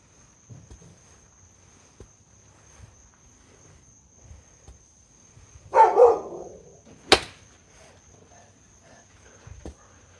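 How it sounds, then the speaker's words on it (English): A dog gives a short burst of barking at a distance on a golf practice range, two or three quick barks with a sharp crack after them, over a quiet background with a steady high insect-like whine. "What are you barking at?"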